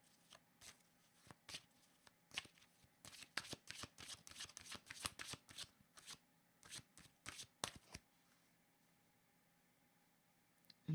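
A deck of cards is shuffled in a rapid burst of crisp riffling and snapping strokes, close and clear, lasting several seconds before trailing off into quiet.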